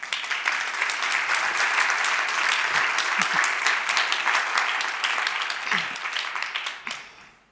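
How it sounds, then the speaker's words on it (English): A conference audience gives a round of applause, a thick, sustained wash of many hands clapping for several seconds with occasional voices underneath, tapering off abruptly at the end. "we should celebrate them, so how about a round of applause?"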